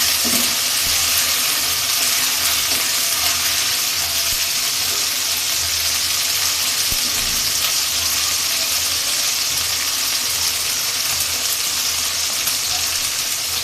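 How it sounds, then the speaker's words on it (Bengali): Ginger paste frying in hot oil in a pan, cooked before adding turmeric and salt: a steady, dense sizzle that fills the whole stretch evenly, close and bright, with no talk. "আদার একটু তেলে বাটিয়ে নিই, একটু আদার গন্ধটা যায়।"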